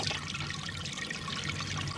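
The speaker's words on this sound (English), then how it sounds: "Beautiful flush action" A toilet with paper in the bowl flushes after an overflow repair, giving a steady, loud rush and swirl of water that runs unbroken through the whole stretch.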